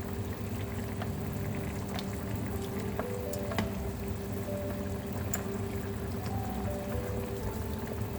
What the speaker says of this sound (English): Pour some of the gravy on top.